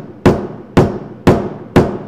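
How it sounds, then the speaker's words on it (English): Four sharp hammer blows land at an even half-second rhythm, loud and close, each with a short ringing decay and no voices. "Oh, yeah, I hammered too hard."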